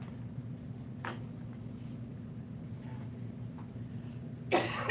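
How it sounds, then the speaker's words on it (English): Two short, sharp coughs a few seconds apart, the second louder and closer, over a steady low room hum with no talking. "Start coughing, I know I"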